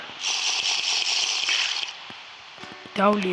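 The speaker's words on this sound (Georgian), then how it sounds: "ამას ავავსებ წყლით და ამას გადავხურავ" Water pours in a steady hissing stream into a container, then stops; a voice speaks briefly at the end.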